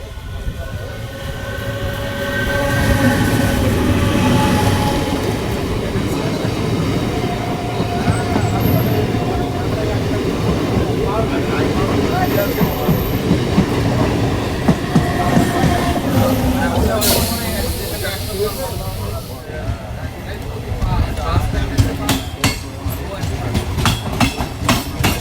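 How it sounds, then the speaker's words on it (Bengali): Bhagirathi Express pulling into Sealdah station, a steady loud rumble of wheels and rail clatter throughout, with a brief hiss and rattling near the end and voices faintly under the din. "সব ট্রেনগুলো এখন ঢুকছে শিয়ালদা স্টেশনে।"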